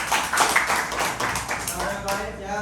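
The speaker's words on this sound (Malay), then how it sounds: "Tepuk tangan sikit." A class claps hands together during a lesson, a brief burst of mixed claps that blends with voices talking over it.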